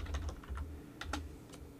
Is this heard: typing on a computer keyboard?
yes